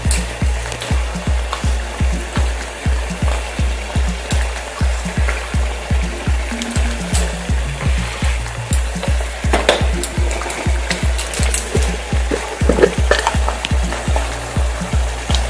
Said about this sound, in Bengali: গ্রেভির সাথে ভালোভাবে ফুটিয়ে নেব এবার